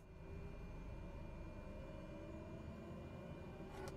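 Propeller airplane engine idling in a flight simulator, a steady, faint drone that holds evenly throughout with no talking.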